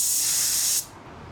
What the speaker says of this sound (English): Do a spray out.